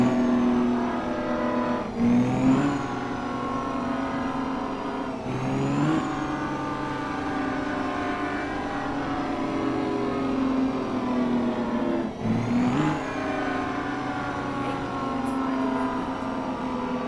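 A heavy two-stroke diesel engine of a Mack R truck in American Truck Simulator drones steadily, rising and dipping in pitch three times as if shifting gears, loud and continuous throughout.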